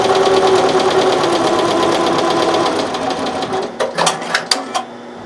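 A BAi Vision embroidery machine stitches in a fast, steady mechanical whir close by, then slows and stops with a few separate clacks at the end.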